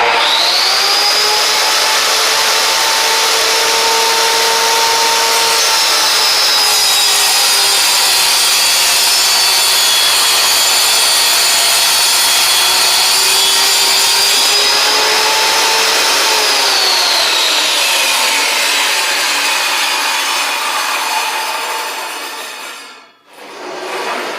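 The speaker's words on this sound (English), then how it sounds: "what you want to do now is obviously turn on your saw, let it get up to full speed." A Milwaukee 15 amp vertical panel saw cuts through a wood panel, its loud whining motor steady at full speed with a rasping blade sound, then winding down near the end before a brief dip.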